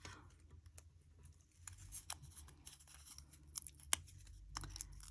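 Scissors snip through card pieces for a handmade Mother's Day card, with a few quiet, crisp cuts and clicks, close and faint.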